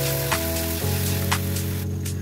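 Onions fry in a pan for a chicken jhol, a steady close hiss of sizzling under a constant electrical hum, with a few brief crackles and no voices.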